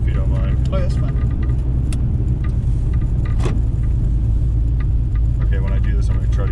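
A 600-wheel-horsepower supercharged 1969 Camaro roars through a hard acceleration pull, its engine loud and steady from start to finish while people in the car talk over it.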